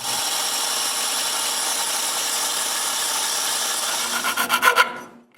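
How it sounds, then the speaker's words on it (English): Close, loud sanding of cut nail ends down to an even height on a handmade wooden cryptex, a continuous rasping rub that ends in several quick back-and-forth strokes before stopping. "When the glue is dry, I cut the nails and sand them to the same height."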